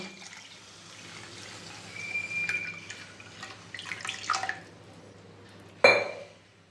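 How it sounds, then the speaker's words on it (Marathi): Water is poured from a small metal pot into fried spice paste for potato curry, giving a faint, close trickle and splash that builds unevenly, then a sharp clank near the end. "आता यात मी हे तांब्यावर पाणी टाकणार आहे"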